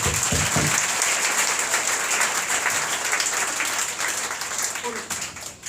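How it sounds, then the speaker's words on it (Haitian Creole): A church congregation applauds in a steady, dense wash of clapping that fills the room throughout, with some voices mixed in and the clapping easing slightly toward the end. "On applaudit Jésus à cela."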